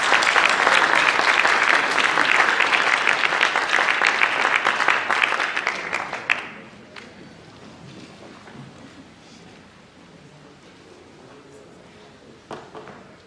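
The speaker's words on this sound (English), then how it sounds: "So give them another round of applause." A school audience gives loud sustained applause for junior Beta Club members at a day of celebration, dense clapping that fades after about six seconds into quiet room noise with a few scattered claps.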